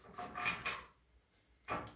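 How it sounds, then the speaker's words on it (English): A tarot card deck is shuffled in a few short, soft papery riffles close by. Two bursts come in quick succession, then a pause, then a third, all fairly quiet in a still room. "two more shuffles for Libra 1"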